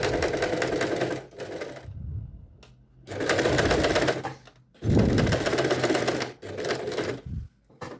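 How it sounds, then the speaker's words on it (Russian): Sewing machine stitching a fabric belt, running in several bursts of rapid mechanical clatter separated by short pauses as the fabric is held taut, close and loud, no talking. "Крепко держать и натягивать ткань, делать строчку."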